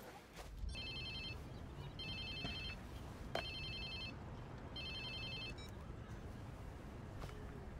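A ringing phone in Watch Dogs 2 trills in four evenly spaced electronic bursts over steady low ambient game noise, with no one talking.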